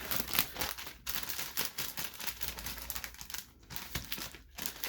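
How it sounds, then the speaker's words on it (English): Tape being peeled up from fabric while a zippered bag is sewn, soft crinkly tearing and crackling in quick bursts, faint and close with no talking. "We can pull our tape up right here."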